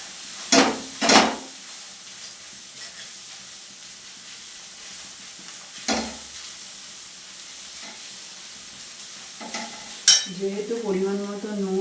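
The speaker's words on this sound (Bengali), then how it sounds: "এটাকে ভালোভাবে ফ্রাই করে নেব।" Food fries in a pan with a steady low sizzle under a few louder stirring scrapes and clatters, close by, with a voice briefly speaking near the end.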